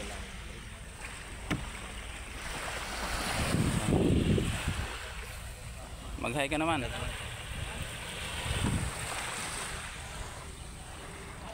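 A small wooden outrigger boat heads out onto the open sea, with a steady wash of waves and water against the hull and wind noise. People talk over it throughout.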